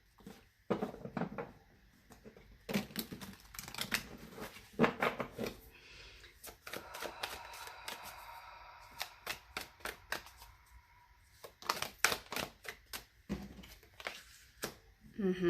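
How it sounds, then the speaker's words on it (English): Repeated bursts of riffling and flicking cards, a large oversized tarot deck shuffled in uneven rounds with short pauses between, close and crisp. "giganto tarot decks get a little bit weird to shuffle."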